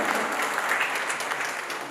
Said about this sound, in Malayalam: അനാച്ഛാദനത്തിന്റെ സമയത്തും ഒരിക്കൽ കൂടി നല്ലൊരു കയ്യടി കൊടുത്തുകൊണ്ട്